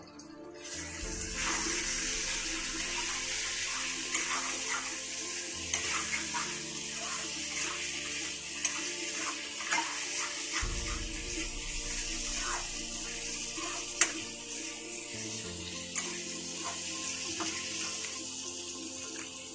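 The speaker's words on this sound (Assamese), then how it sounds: "ফ্ৰাই হৈ আছে বস্তুটো, ফ্ৰাই হওক ভাল কৰি" Potatoes coated in masala fry in a pan over a steady, even sizzle that runs on continuously, with occasional soft clinks and scrapes of stirring.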